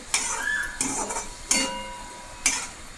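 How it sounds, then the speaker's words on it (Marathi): Ridge gourd curry with chilli powder being sautéed in a pan, a low sizzle broken by four sharp spatula scrapes and clinks against the metal at uneven intervals. "आता यामध्ये घरचे तिखट 2 चमचे टाकून घेते। परत परतून घेते।"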